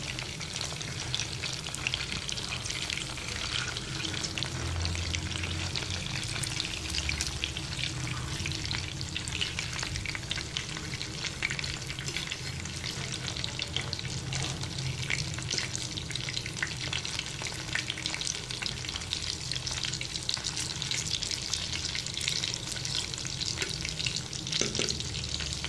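Keema kebabs frying in a pan, a dense, even sizzle crackling steadily and fairly quietly throughout with faint spatula scrapes, no talking.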